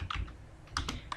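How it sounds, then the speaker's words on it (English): A few quick keystrokes on a computer keyboard, close and crisp, in two short bursts. "we're going to type in Greek or Greek costume"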